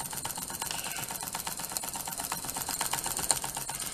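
A Gauge 1 model steam locomotive running: rapid, even mechanical chuffing and clicking, a busy rhythmic patter at moderate level with no talk over it.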